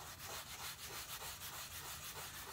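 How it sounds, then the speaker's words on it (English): Fine grit sandpaper rubbed back and forth over a stain on a light colored hat, a steady close scratchy rasp repeating in quick even strokes with no talk. "you can always use a fine grit sandpaper or emery cloth to rough up the stain"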